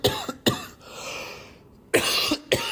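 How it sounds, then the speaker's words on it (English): A person coughs several times in sharp, close bursts, with a short rasping exhale in between. "I'm coughing like I'm smoking"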